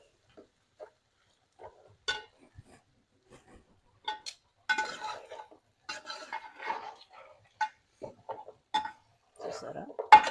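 A spoon scraping and clinking in a pot while mutton is stirred with masala, chili powder and tomato paste, irregular knocks and scrapes, close and moderately loud, with pauses between strokes.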